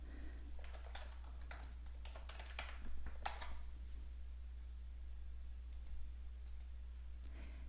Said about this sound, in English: The great thing is you can even type text right on your photos.